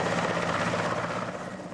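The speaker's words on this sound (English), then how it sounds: "And that means getting on a helicopter captured by the Afghans from the Soviets." A helicopter captured by the Afghans from the Soviets gives off a continuous, loud, rhythmic rotor thump and engine drone, close and steady throughout.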